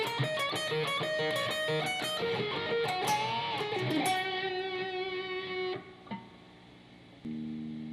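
An electric guitar plays a blues solo passage at full tempo, with quick picked notes and bends. It ends on a ringing, sustained note that fades before a final soft chord. The sound is close, and no one speaks.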